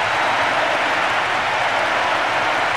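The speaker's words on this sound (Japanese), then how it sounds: "スタジアム中が大歓声で揺れています" A stadium crowd roars and cheers after a goal in the football video game Winning Eleven 2012, a loud, dense, steady wall of crowd noise with no talk over it.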